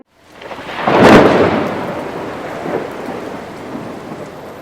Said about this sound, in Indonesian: Gemuruh langit menghantam petirnya ke tanah.